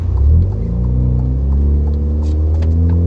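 Alfa Romeo Giulia 2.0L turbo fitted with a GFB DV+ diverter valve, engine droning loudly from inside the car as it accelerates, a steady rising rumble with a brief surge early on and a faint hiss later.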